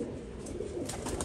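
A pigeon coos softly and close by, a short low murmuring call over a faint background with no talking.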